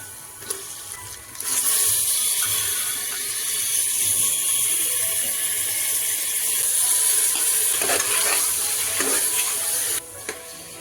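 Chicken for kharda chicken sizzling in a pan with onion and turmeric: a soft start gives way to a loud, continuous frying hiss with occasional scrapes and clicks, no talking.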